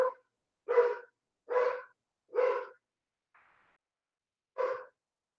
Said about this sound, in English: tell that dog to be quiet